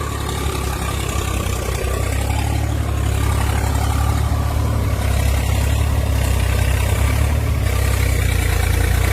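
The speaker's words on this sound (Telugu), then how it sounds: "ట్రాక్టర్ కొడుతుండు, ట్రాక్టర్ చూపిస్తాను మీకు మొత్తం." A tractor engine runs steadily nearby, a loud continuous low rumble with a dense mechanical roar that holds at an even level throughout, with no talking.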